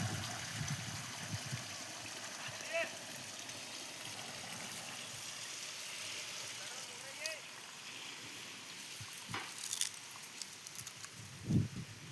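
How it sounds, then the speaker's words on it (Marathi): Water from a farm solar pump gushes and trickles out of the outlet, faint and fairly steady, with a few soft knocks and splashes near the end. "पाणी आलं"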